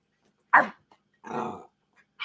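A dog barks nearby: three sharp, separate barks spaced apart with quiet gaps between, and no other sounds.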